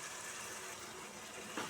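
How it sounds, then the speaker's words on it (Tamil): Ground almond milk is poured into a prawn biryani gravy, giving a soft, faint continuous liquid pouring and gushing sound with no voices. "இப்போ நம்ம அரைச்சி வச்சுருக்க பாதாம் மில்க்கு சேர்த்துக்கிறேன்."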